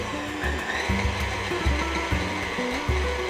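A stand dough mixer churns concha dough for Mexican sweet bread with a steady motor whir and a rhythmic thumping pulse repeating about every second as the dough slaps around the bowl. It is close and moderately loud, with no talking.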